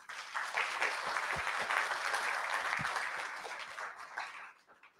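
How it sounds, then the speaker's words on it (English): Audience at a university address applauds the faculty, a full round of many hands clapping that holds steady and fades out near the end. "let's give them a round of applause"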